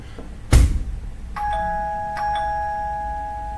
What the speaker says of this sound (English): it's going to set the doorbell off